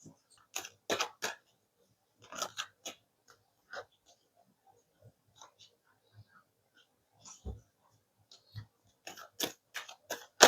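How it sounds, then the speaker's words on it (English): Tarot cards are shuffled in short papery bursts and flutters, with quiet gaps and light taps in between, heard up close. "Shuffle one more time."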